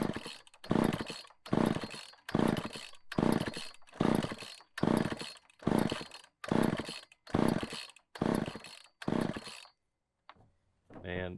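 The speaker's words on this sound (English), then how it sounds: "Put it on start, and then you just pull and you hope it starts." A chainsaw without a primer bulb is pull-started again and again: about ten loud, close ripping pulls of the starter cord in a steady rhythm, then a short pause and a brief sputter at the end.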